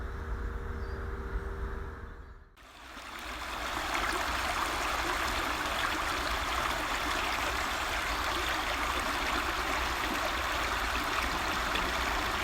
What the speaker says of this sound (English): The sound of it is quite calming in many ways, especially as it just trickles over the rocks